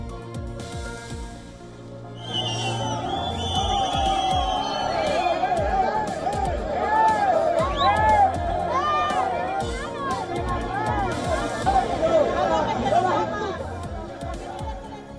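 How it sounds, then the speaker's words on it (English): An angry crowd in flood-hit Valencia jeers King Felipe VI of Spain, with loud, dense chatter and shouting voices that swell after a quiet start and stay strong throughout, marked by occasional whoops and sharp cries. "Angry crowd calls the royal an assassin and throws mud at him."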